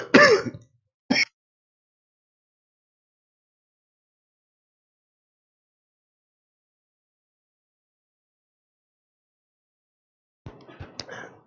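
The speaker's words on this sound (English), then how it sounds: "The cough sounds worse than it actually is." Two short throaty coughs close up, a brief pause between them, then long silence before a few faint rough sounds near the end.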